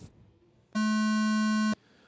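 A steady electronic race-start tone for a drone racing final, about one second long, loud and clean with a buzzy harmonic edge, rising out of quiet background hum and stopping abruptly.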